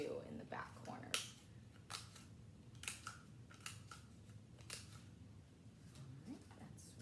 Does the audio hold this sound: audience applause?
no